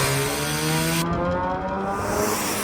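BMW E46 M3 with the S54 straight-six revs high, a loud steady engine tone with strong harmonics that drops off partway through as the throttle eases.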